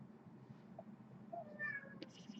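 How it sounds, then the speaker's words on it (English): A house cat meows softly in the background of a quiet room, a couple of short, faint rising calls over a low steady hum, with no talking. "And that's my cat in the background."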